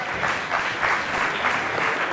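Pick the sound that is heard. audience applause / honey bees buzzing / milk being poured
audience applause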